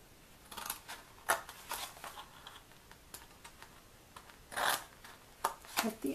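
Scissors snip through the tabs of a paper gift box in a series of close, crisp cuts spaced irregularly, with a few quick clusters of snips and quiet rustling in between.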